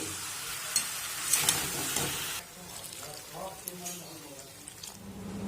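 Potato curry seasoned with sugar and salt stirred in a pan, soft sizzling with scattered spatula clinks and scrapes, the frying dropping quieter midway as a voice talks over it.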